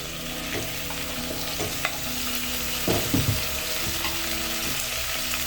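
Chicken dry fry cooking in a pan as chopped tomatoes, garlic, onions and coriander stems go in, giving a steady close sizzle with stirring scrapes and a few louder bursts partway through.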